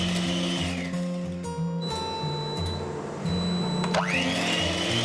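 An electric egg beater whirs steadily as it beats butter, powdered sugar and beaten whole egg, its motor pitch shifting up and down with a sharp rising whine near the end, close by.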